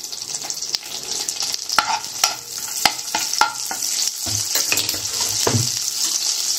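Cinnamon and star anise sizzle and crackle in hot butter in a pan, a loud continuous frying hiss broken by a few sharp spatula taps and scrapes, with no voices.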